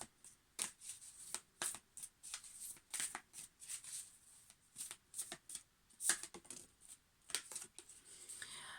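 Angels and ancestors oracle cards being shuffled by hand, a quiet, close series of soft riffling flicks and papery slaps in irregular bursts, with no talking.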